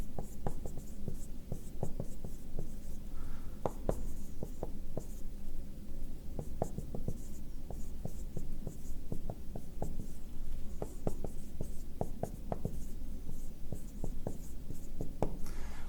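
Marker or pen drawing a vector by hand during a physics lesson on vectors, a steady run of close scratchy strokes and taps lasting the whole stretch, with no talk over it.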